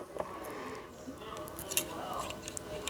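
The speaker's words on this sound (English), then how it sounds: "I'm just going to cut the wires" Scissors snip through thin string-bracelet wires in a few quiet, close cuts amid soft handling noise, with faint speech in the background.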